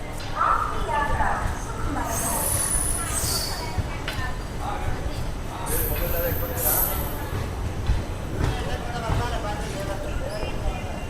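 Krishna Express pulls out of Dwaraka junction with a continuous rumble of rolling wheels, broken by several high wheel squeals, while voices murmur nearby.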